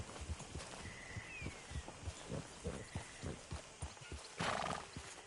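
Horse hooves clip-clop in a steady walking rhythm in Red Dead Redemption 2, close and clear, with a brief whinny and scattered ambient game sounds over the hoofbeats.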